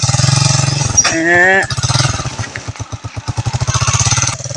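A motorcycle engine runs steadily close by with a rhythmic, pulsing putter, while a voice cuts in briefly partway through.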